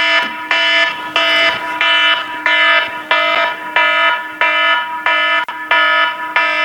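An emergency alert text arrives on a phone as a loud, harsh alarm tone blaring in about ten evenly spaced pulses, each a sustained buzzing blast with brief gaps between, close and alone.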